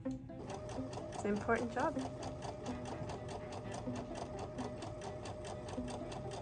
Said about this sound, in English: You're sewing.